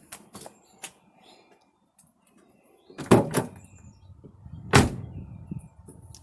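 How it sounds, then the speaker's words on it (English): A Ford Focus car door, just adjusted to fix sagging, opens and closes in a few short clunks and latches: light knocks early, then two firmer shuts close by. "the door should open and close just right"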